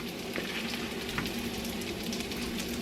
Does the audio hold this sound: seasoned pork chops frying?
yes